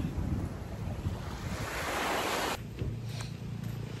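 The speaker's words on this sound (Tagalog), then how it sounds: "Napakaganda ngayon ng tubig, napakataas. High tide timing tayo." High-tide ocean waves break on a beach in Glan, Sarangani Province, a loud, rushing surf mixed with wind buffeting the microphone that cuts off sharply partway and leaves a quieter wash.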